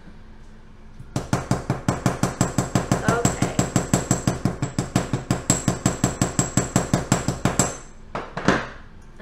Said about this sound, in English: you're just gonna hammer that as well